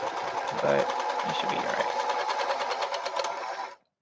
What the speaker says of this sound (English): if you don't have a strong-ish sewing machine, it might bog down and it might sound like it's dying